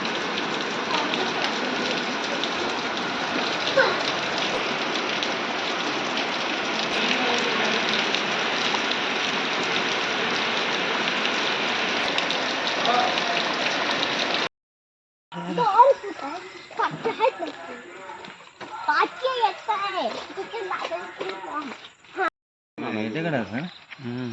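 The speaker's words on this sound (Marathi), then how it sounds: "पाऊस चालूच आहे" Steady, dense hiss of heavy monsoon rain falling in the Konkan region for a long stretch, then the rain sound drops away as voices talk intermittently.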